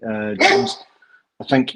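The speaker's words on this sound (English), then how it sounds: "apologies for the dog" A dog barks loudly in two short bursts at close range, breaking into a man's speech on a football discussion call.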